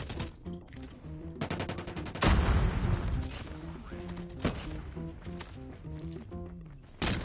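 Rapid gunfire in the video game Call of Duty: Mobile, bursts of automatic shots with a loud blast midway, continuing in quick repeated volleys over in-game background sound.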